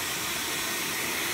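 A Dyson Supersonic hair dryer blows at full power, a continuous airy whoosh with a smooth motor hum, loud and close with no voices.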